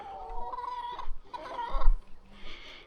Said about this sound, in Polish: Tam dalej kury się biją.